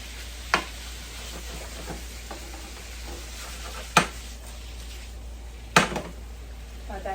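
Vegetables cooking in a pan with salt and pepper give a steady, soft sizzle, broken by three sharp utensil clacks, one early and two later.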